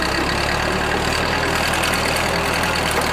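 An amphibious Ford tractor's motor idles with no throttle applied, a steady, strong, even rumble that runs close and loud throughout with no sputtering or talking.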